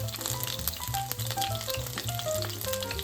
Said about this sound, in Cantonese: 預熱油鑊，開大火，油夠熱之後，放第一輪蝦餅入去。